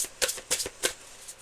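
Tarot cards being shuffled by hand, a few quick riffling bursts close up, each a short crisp flutter separated by brief pauses.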